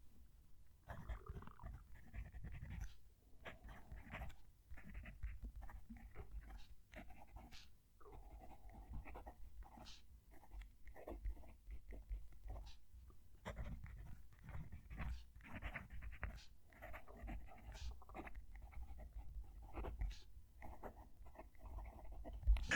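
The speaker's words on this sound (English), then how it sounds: "I'm going to move the mic down to the page and write a sentence." A Jinhao 9016 fountain pen writes a sentence on paper with the microphone close to the page: soft, scratchy nib strokes in short, irregular bursts that continue steadily for the whole stretch, with no talking.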